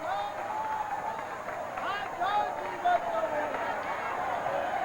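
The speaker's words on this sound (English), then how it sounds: "And listen to that crowd." Crowd cheering and calling out at the Gulf Coast expo during a mask-grabbing contest between interns, a steady mid-distance roar with brief louder swells of yells.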